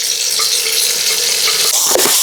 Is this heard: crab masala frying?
yes